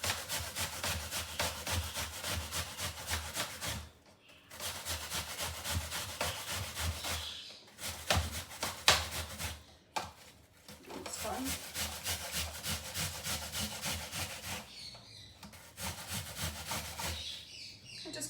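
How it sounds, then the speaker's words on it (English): An apple being grated around its core, with steady back-and-forth rasping strokes that pause briefly between passes, close and fairly loud. "Just grate around the core."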